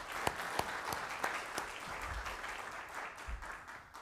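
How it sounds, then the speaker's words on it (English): Audience applause at a business and STEM challenge event, a short round of clapping heard from a distance with a few sharper individual claps standing out, fading toward the end without speech. "let's give all 3 of them a round of applause"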